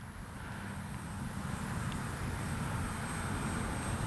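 An FMS Ranger RC plane's electric motor drones steadily overhead at partial throttle, a continuous buzzing hum with broad rumble and a faint high whine, holding an even level throughout.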